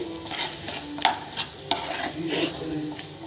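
A spoon stirs a hot oil tempering into spinach and fenugreek chutney: soft scraping strokes against the pot under a light sizzle, several distinct stirs, close and fairly quiet.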